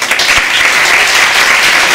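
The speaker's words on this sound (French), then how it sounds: "On peut encore une fois remercier Stéphane Ancel par des applaudissements." Audience applause at the 2014 Demosthène contest final, a dense steady wash of clapping filling the whole short stretch, loud and close with no voices over it.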